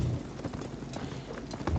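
Horse hooves galloping in a video game, a soft, quick rhythmic clip-clop, faint and steady over a low background.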